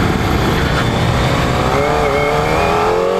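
A Kawasaki ZX25R KRT ABS SE motorcycle accelerates hard with a loud, high-pitched inline engine whine that climbs steadily in pitch, heard up close from the rider's position over continuous wind noise.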